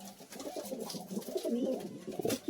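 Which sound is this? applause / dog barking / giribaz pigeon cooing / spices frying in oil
giribaz pigeon cooing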